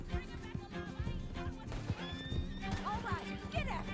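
Horse in the Red Dead Redemption 2 video game whinnies repeatedly and hooves clip-clop beneath, with game music and someone talking over it throughout.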